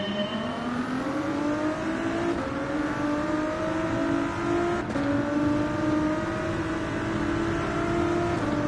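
Steady whine of a race car engine in Gran Turismo 7, holding a high revving pitch with small shifts as gears change, constant and fairly close with no talk.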